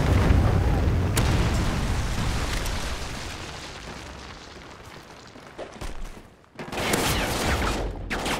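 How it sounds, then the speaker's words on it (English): A Trinity rocket strike in the Call of Duty Ghosts multiplayer game, a loud rumbling explosion that slowly fades, followed by a few sharp bursts and a second blast near the end. "Friendly Trinity rocket inbound."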